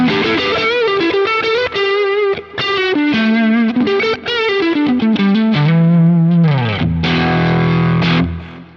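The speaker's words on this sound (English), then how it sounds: "you can pull back the pickup level and kind of clean up the fuzz." Electric guitar driven through a fuzz pedal model on a Quad Cortex, a loud, saturated run of sustained notes and bends with thick, buzzing overtones, played alone without talking.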